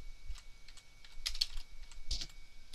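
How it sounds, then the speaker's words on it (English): Typing on a computer keyboard while entering point text in a design program, heard as scattered light key clicks with a couple of denser bursts, close and clear with no talk. "typing the words blue sky."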